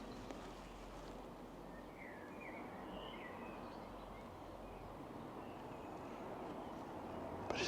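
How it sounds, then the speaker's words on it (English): Birds chirp and trill softly in a Welsh garden, scattered calls drifting over a steady hiss of outdoor ambience, faint and somewhat distant throughout. "it's beautiful just to stand here and listen to the birds."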